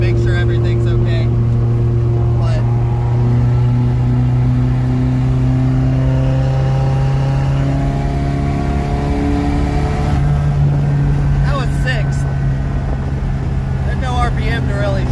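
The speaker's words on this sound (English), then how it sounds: "just so I can peg the rev limiter and make sure everything's okay" A Mazda RX-7 rotary engine revs hard, climbing in pitch several times to the rev limiter with a loud, buzzing rising note, dropping and climbing again, heard up close.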